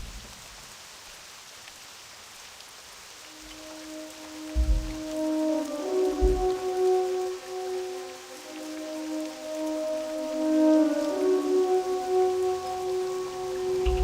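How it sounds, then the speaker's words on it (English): Steady rain falls in Westfall in World of Warcraft Classic, a soft, even hiss that runs under sustained musical tones and a few low thumps. "I'm kind of bummed out that it's raining here today"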